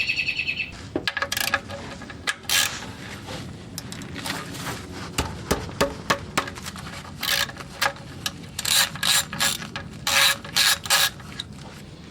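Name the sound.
wrench loosening 14mm oil drain plug on Toyota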